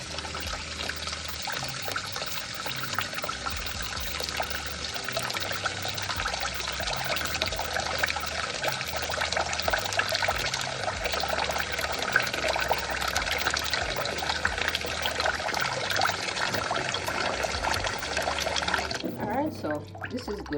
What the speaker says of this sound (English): we're just catching up water to cover the mackerel